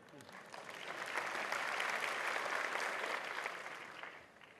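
Applause from an audience at a JITO event with Narendra Modi, a broad wash of clapping that swells after the first second, holds steady and loud, then tapers off near the end.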